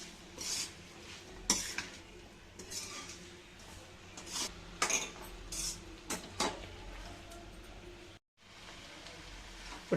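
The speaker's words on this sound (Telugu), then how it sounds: "ఇప్పుడు వేసుకొని మంచిగా అంతా కలిసేటట్టు కలుపుకుందాం." A spoon stirs and scrapes sabudana khichdi around a pan in a home kitchen, giving soft, irregular clinks and rubbing scrapes, close and fairly quiet, with no talking.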